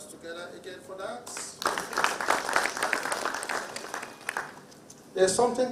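Conference audience applauding at a national meeting on farmer-herder relations in Nigeria, a broad burst of clapping rising after a voice and lasting a few seconds before speech returns.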